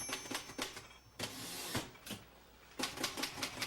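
Mechanical typewriter typing at speed: rapid, uneven clacks of keys striking in quick bursts with short pauses between, close and clear, with no talking.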